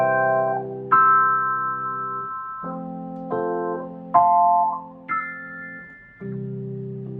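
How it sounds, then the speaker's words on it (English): Electric piano voice on a Yamaha P121 digital piano playing a slow sequence of sustained chords, each struck and left ringing as it decays before the next, bright and clear with no one speaking. "Electric piano sounds like this."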